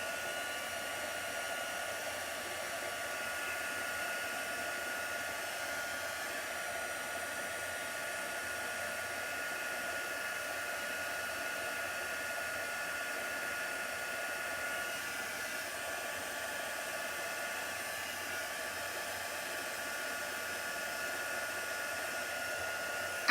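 A heat gun runs nonstop while heat-setting chalk paste, a steady airy blowing hiss with an even motor drone, moderately loud and close, unbroken for the whole stretch.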